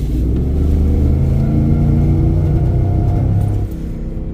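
A Ford F150 V8 with a misfire idles close and loud, its steady low rumble faltering unevenly before settling as a slight drop near the end.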